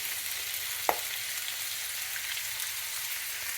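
Food with zucchini and spinach sizzles in a pan, a soft steady frying hiss with one brief clink of a utensil stirring near the start, otherwise quiet and continuous.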